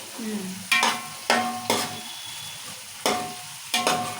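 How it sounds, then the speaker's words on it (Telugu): Stirring in a hot pan while frying ingredients for a fish curry, a low sizzle broken by several loud scraping strokes of a spoon against the pan at uneven intervals, close and without speech. "మంచిగా దూరగా వేయించుకోవాలి"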